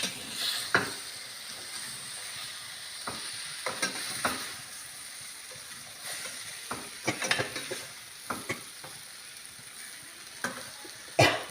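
Onions and sesame spice powder sizzle and fry in a hot pan, with a steady soft hiss and scattered scraping clicks of stirring throughout, no voices.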